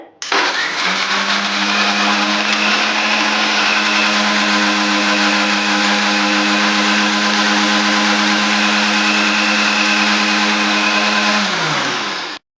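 A kitchen mixer grinder blending garlic and green chillies into a paste, a loud steady motor whine that starts abruptly, holds an even pitch for about twelve seconds, then winds down and stops.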